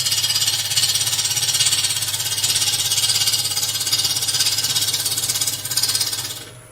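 Wood lathe turning a blank into round with a bevel-riding cutting tool, a steady loud roaring whir with rhythmic chatter as the gouge cuts, continuing without pause before tailing off at the end.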